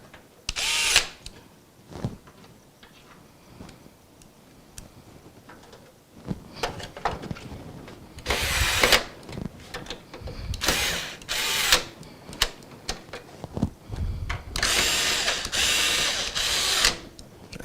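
A power screwdriver drives screws into a crooked PC power supply, whirring in short, separate bursts with ratcheting clicks as the low torque setting slips, quieter pauses between each run.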